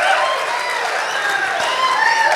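A comedy show audience breaks into clapping, a loud, dense round of applause from the crowd that holds steady throughout without a voice over it.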